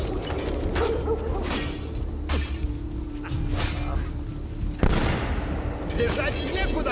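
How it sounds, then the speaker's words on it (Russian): Gunfire in Assassin's Creed II, a few sharp booming shots standing out from a busy background of muffled voices and scuffling. "Сейчас стреляет."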